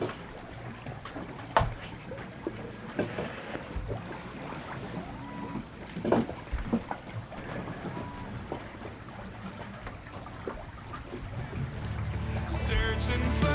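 A sailboat moves under wind alone with no engine running, giving a steady broadband rush of wind and water with occasional knocks and creaks from the boat, rising louder toward the end.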